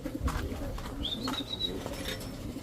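Racing pigeon hens in a breeders loft give a soft coo with a faint higher call over a low rumble of background noise, no talk.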